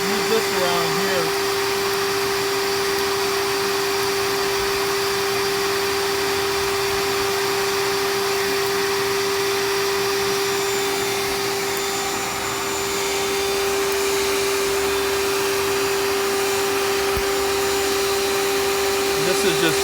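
A shop vacuum run in reverse blows cool air through freshly roasted coffee beans, a loud, steady whining drone with a constant pitch that holds for the whole stretch, with no pauses.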